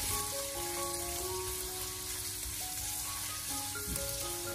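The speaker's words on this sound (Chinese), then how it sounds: "先把五花肉里面多余的一些油脂煸炒出来" Pork belly stir-fries in a wok over medium-low heat while its fat renders, a dense, constant sizzle like light rain under a sustained melodic music bed, with no speech.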